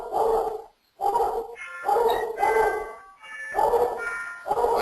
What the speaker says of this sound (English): my dog's going crazy right now